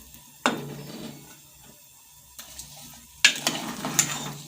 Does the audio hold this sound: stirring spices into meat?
yes